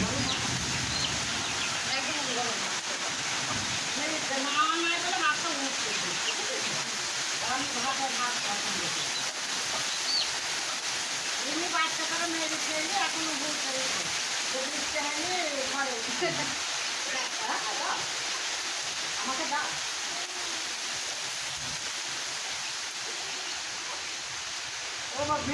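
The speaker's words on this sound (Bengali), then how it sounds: "প্রচণ্ড জোরে দমকা হাওয়া শুরু হয়েছে হঠাৎ করে মুসুলধারে বৃষ্টি শুরু হয়েছে" A heavy downpour with gusty wind makes a steady, dense rushing roar throughout, while a person talks over it for much of the time.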